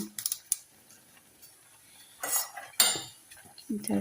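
A spoon stirs tomato rasam with curry leaves in a metal pot, giving sharp scraping clinks and clatters in short bursts with quiet gaps, close up.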